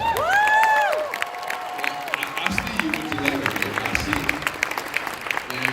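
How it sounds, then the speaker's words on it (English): An audience at a summit event breaks into clapping and cheers. Excited shouts open the moment, then steady applause with sharp individual claps continues to the end. "Let's give Cuba a round of applause."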